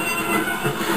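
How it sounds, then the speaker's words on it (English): A steam locomotive coupled to a breakdown train pulls away, giving a steady, loud rumble of rolling wheels and rail noise with faint squealing, filling the whole second without pause. "Thomas was coupled on to the breakdown train, and off he went as fast as he could."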